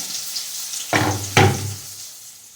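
Chopped onion dropped into a hot pan for okra bhaji, giving two sharp bursts of sizzling that fade into a low steady fry, close and fairly loud with no talking.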